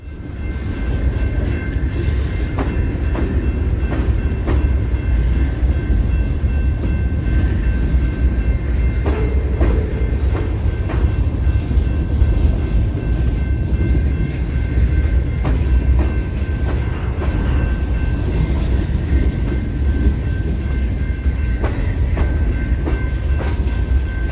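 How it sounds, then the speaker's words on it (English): Norfolk Southern freight train NS 355, pulled by four locomotives, rolls past in Birmingham, Alabama, with a loud, steady rumble of wagons and repeated clicking wheel-on-rail beats throughout. "NS 355 makes its way out of town to head towards New Orleans with 4 motors"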